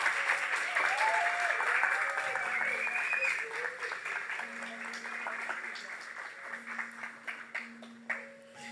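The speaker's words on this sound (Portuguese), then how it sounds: "Vocês vão descer sob os aplausos da igreja" A church congregation applauds at a worship service, steady clapping at first that thins into scattered claps, with voices and a sustained tone underneath.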